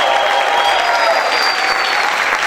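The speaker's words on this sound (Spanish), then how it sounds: "Si es para usted gritar y aplaudir fuerte al Rey." A church congregation claps and cheers loudly together, a dense sustained roar of applause with shouting voices and a high whistle riding over it.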